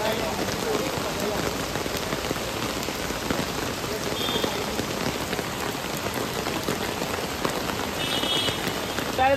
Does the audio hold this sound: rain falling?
yes